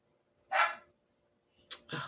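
Two short dog barks, the first alone and the second a quick double burst a second later, heard from nearby with quiet in between.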